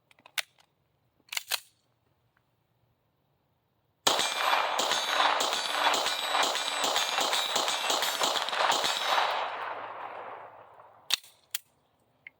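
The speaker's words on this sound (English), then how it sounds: "Let's load it back up and we'll shoot it without a comp this time." A Tisas 1911 DS pistol fires without a compensator in a rapid string of about a dozen loud, sharp shots over five seconds, each crack ringing out with a long outdoor echo, then a few isolated clanks and handling noises.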